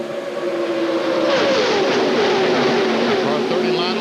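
NASCAR Busch Series stock cars roar past at the 1999 Touchstone Energy 300, engines whining and shifting pitch as they race door to door, loud and close, with a commentator's voice running over them.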